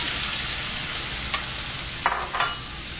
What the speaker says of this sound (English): the first thing that you need to do is you need to cook the tofu